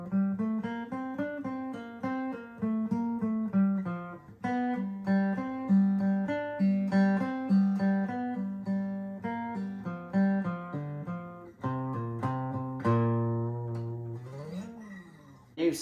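Electric guitar solo played back slowed down, a stretched-out run of sustained, pitched notes that rise and bend in a steady flow, alone and clear.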